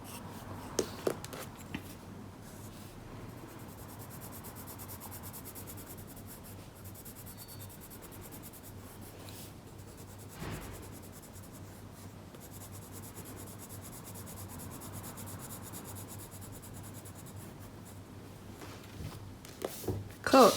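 A calligraphy pen nib scratches across paper while writing gothic blackletter letters, making faint, soft strokes close up, with occasional small taps and rustles.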